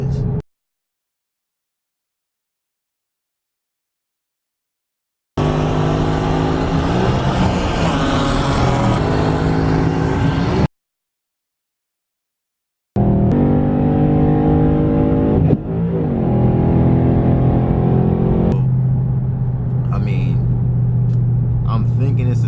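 A Ford Mustang GT with a suspected bad transmission synchro makes a loud mechanical drone and whine while driving and shifting gears, in bursts broken by silent gaps, with someone talking over it.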